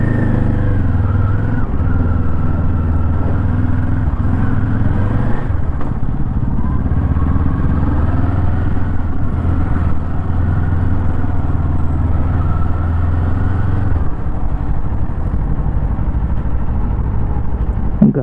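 A 2024 Kawasaki Eliminator motorcycle engine runs steadily and loud, a deep continuous rumble with slight rises in pitch as it revs, and no one speaks.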